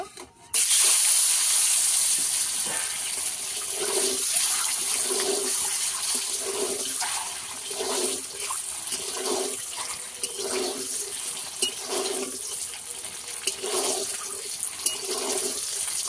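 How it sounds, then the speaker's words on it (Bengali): Cut boiled eggs sizzle and crackle in hot oil in a pan, a steady loud frying hiss with soft repeated stirring scrapes throughout, no voices. "কেটে রাখা ডিমগুলো দিয়ে দেব।"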